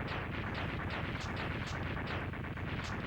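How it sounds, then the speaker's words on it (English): A boss exploding in Mega Man X2, a relentless chain of rapid crackling blasts and booms in a dense, steady stream, loud and unbroken throughout. "He is blowing up."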